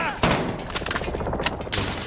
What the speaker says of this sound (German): Der Schuss.